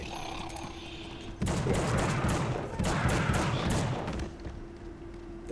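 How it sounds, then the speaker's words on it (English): Gunfire from The Suffering video game, two long bursts of rapid shots, each lasting over a second, separated by a short lull, loud and close over a steady low hum. "I just stand there and shoot them."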